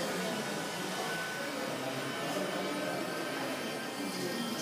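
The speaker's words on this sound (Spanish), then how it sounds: "Se supone que es una aspiradora." A small handheld vacuum cleaner runs in a physics classroom demonstration, giving a steady, loud, broadband whir the whole time with no pauses.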